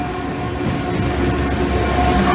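Freight train on the Tinsley intermodal to Felixstowe North service rumbling past close by, loud continuous rolling with a faint rhythmic wheel clatter and no talk.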